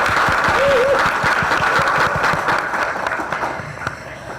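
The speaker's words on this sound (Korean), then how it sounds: "우리 또 박수 쳐야 되지 않겠습니까?" A seminar audience marking World AIDS Day breaks into lively applause, with many hands clapping close and loud. A brief voice or tone rises over it before the clapping gradually thins.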